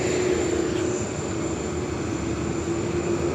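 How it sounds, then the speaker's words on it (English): Qantas Airbus A380 taxiing at Sydney Airport, a steady loud engine rumble and roar with a sustained whine, continuous and unchanging throughout, heard from fairly close by. "Now, Qantas A380 commencing taxi there."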